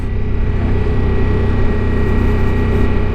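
A Ducati Multistrada V4S motorcycle engine braking on a steep hill, a loud, steady close-up engine drone and rumble mixed with wind noise, holding constant without a break.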